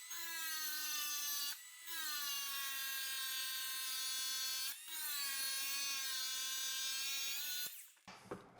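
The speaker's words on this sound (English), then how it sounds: "So that just grinds it down a little bit so it doesn't stick out." Close, loud grinding of sealant behind mosaic tile around a shower with a grinding blade, a steady whining tone in three long passes separated by brief pauses, ending with a short scrape.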